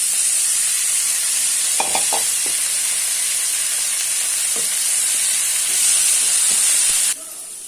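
Chopped banana flower with curry leaves, chili powder and turmeric sizzles steadily in a hot pan, with a few soft scrapes and taps of a stirring spoon over the constant frying hiss.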